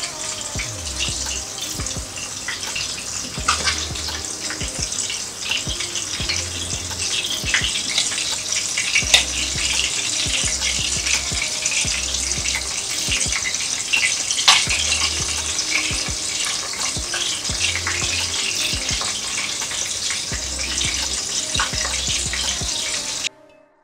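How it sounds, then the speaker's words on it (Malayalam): Masala-coated chicken frying in a pan on a medium flame gives a loud, continuous close sizzle, with a faint low rhythmic thumping underneath until it cuts off at the end. "അപ്പോൾ ഇതൊന്ന് ഫ്രൈ ആയി വരട്ടെ"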